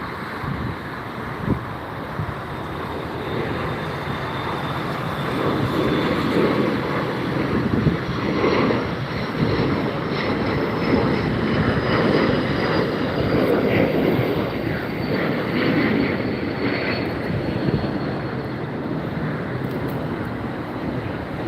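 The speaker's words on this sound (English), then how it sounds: "Okay, another takeoff." An airliner taking off at Los Angeles International Airport (LAX): a steady, broad engine roar that swells and holds for about twenty seconds, heard from a distance with wind noise on the microphone and no talk.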